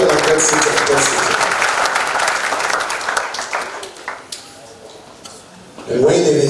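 A church congregation claps hands during worship, steady dense applause filling most of the stretch, thinning toward the end before a voice speaks over it.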